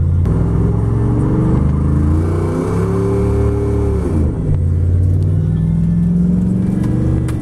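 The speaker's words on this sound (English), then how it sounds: "Took the Camaro out" Chevrolet Camaro driving with a loud, close engine rumble, revs rising and falling through a gear shift midway before settling into a steady drone.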